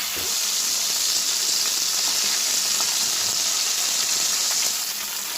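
A steady, bright sizzling hiss of fish frying in oil, close and continuous, with small crackles scattered through and no talking.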